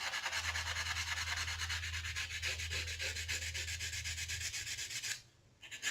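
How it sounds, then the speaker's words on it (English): Sandpaper is rubbed lightly over a wire-wrapped earring, a close, steady rasping hiss that runs continuously for about five seconds and then stops, with no talk. "So just turn it over and lightly sand the opposite side of your earring as well."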